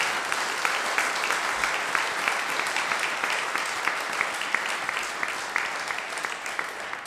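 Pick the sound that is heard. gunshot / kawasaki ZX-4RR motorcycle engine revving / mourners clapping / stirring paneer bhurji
mourners clapping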